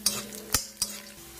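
Cashews, raisins and coconut pieces frying in fat for wheat payasam, a constant sizzle broken by a few sharp clinks of a stirring spoon against the pan.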